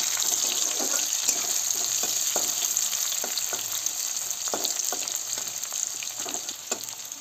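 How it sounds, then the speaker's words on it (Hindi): Chopped onions frying in hot oil for a village-style chicken curry, with a constant bright sizzle and a few soft scraping stirs underneath. "ये हमारा तेल गर्म हो गया है दोस्तों ऊपर से हमने प्याज भी ऐड कर दिया"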